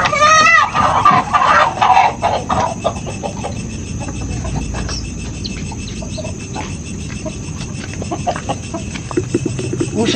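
Chickens cluck near and loud at the start, then a few scattered clucks continue over a steady chorus of crickets and insects outdoors, with faint voices now and then.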